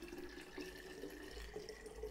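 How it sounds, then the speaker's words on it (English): Filtered water pours steadily from a filter jug into a container of water kefir grains, a continuous close splashing and gurgling stream with no pauses. "To this, I'm going to add some clean water, preferably not from the tap, or if you have a filter jug, as I do"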